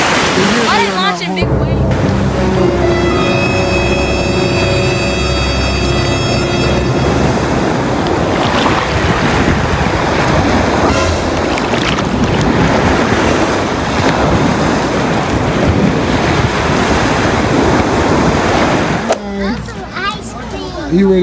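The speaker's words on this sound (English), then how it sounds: "Why are you launching big waves?" Big waves splashing and surging in Miami water form a loud, continuous wash of surf with wind buffeting the microphone, with people talking over it at the start and end.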